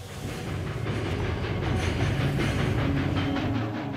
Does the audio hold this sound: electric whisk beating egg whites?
no